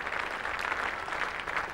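Spectators applaud a batsman at a 1995 England versus West Indies Test match at Trent Bridge, a steady, soft patter of distant clapping from the crowd that continues without a break.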